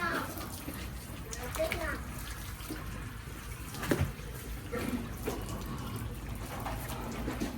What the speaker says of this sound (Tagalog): Mahina yung tubig mo. Dapat yung power spray na lang.